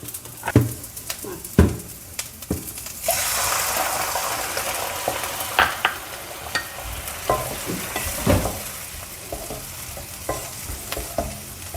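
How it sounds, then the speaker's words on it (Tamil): Water pours steadily into a bowl of ragi flour, a continuous rushing hiss, with scattered clinks and scraping before and after. "இப்போ நான் 1 கப் தண்ணி ஊற்றுறேன்"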